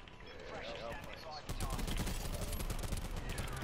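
Rapid automatic gunfire in the shooter game Call of Duty: Black Ops 4, a dense burst of loud shots that intensifies after a moment and keeps going without pause, with a player talking over it.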